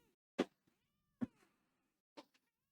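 A pet cat meows to be let outside, three separate close, insistent cries spaced about a second apart in an otherwise quiet room.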